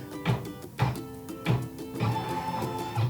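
An embroidery machine stitches a Kimberbell mini quilt with rhythmic mechanical thumps about every half second. Its motor whirs steadily underneath, close and clear, with no talking.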